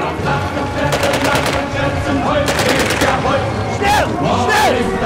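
MP40 submachine gun fired in a video game, heard as loud repeated rapid bursts over a busy background of game noise, with sharper sweeping effects near the end.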